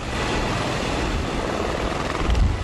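A rescue helicopter flies close by, its steady rotor roar and engine whine filling the air without a break and swelling slightly louder toward the end.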